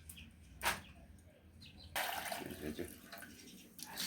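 Water splashes and sloshes as Kudura smoked dry fish is washed in a bowl, a brief splash followed by a longer, fuller stretch of rinsing, close and moderately loud.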